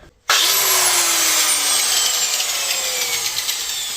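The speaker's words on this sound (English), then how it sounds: "let's get the angle grinder in here" Angle grinder cutting through a coil spring from a VW Polo 86c, starting abruptly and running loud and steady with a bright, harsh metallic screech that continues throughout.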